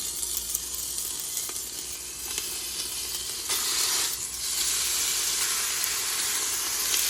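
Bacon sizzling in a pan on a stove turned to 6, a loud continuous hiss with occasional pops and crackles that grows slightly louder partway through.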